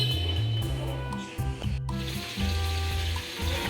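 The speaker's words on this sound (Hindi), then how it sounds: "जब तक हम पहले आलू वालू फ्राई करते हैं" Potatoes fry in a pan with a steady, close sizzle and occasional scraping stir strokes, on a rainy day of home cooking, with no talking.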